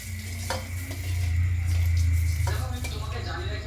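Mustard oil poured into a hot pan after eggs are fried, a close sizzle swelling midway with stirring clatter and pan knocks, a faint voice underneath.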